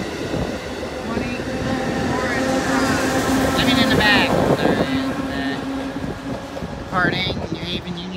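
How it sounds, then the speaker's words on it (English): A train departs New Haven Union Station from track one with a loud, droning engine rumble and sustained tonal hums, while voices talk nearby. "Departing New Haven Union Station, track number one."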